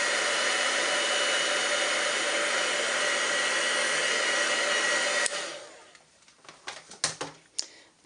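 A heat tool dries freshly stamped ink, blowing with a steady loud whir for about five seconds before it switches off, then a few light clicks and handling sounds follow.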